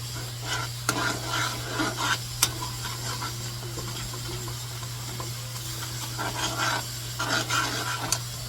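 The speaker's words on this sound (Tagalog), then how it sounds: "Then mix na natin guys yung bawang." Garlic frying in a pan while being stirred, a steady sizzle broken by scraping strokes of the utensil, with a constant low hum underneath throughout.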